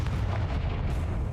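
Confringo explosive spell going off in the video game Hogwarts Legacy, a single loud booming blast with a heavy low rumble lasting over a second.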